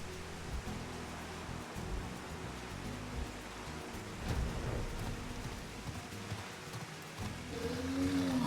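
Steady heavy downpour with low rumbling thunder in a Final Fantasy XIV: Endwalker scene, a dense continuous wash of rain that swells slightly louder toward the end, with no voices.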